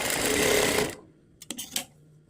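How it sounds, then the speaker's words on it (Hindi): An electric sewing machine stitches a hook strip onto a blouse with a 1/2-inch margin, running in a fast, loud, close whirring burst that stops abruptly, followed by a few quiet handling clicks. "और इसी तरह से 1/2 इंच के मार्जिन के साथ स्टिच करेंगे।"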